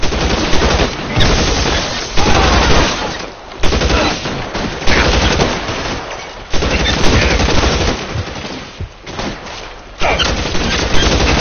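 Heavy gunfire from a video game police shootout in Los Angeles, loud overlapping rapid shots and volleys that keep coming in waves with short gaps.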